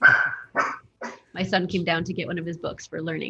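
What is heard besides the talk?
dog barking in the background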